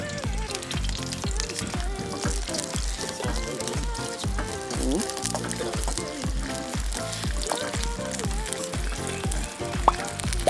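Bread fries in ghee in a pan, a dense steady sizzle close up with repeated soft stirring knocks, continuing for about ten seconds.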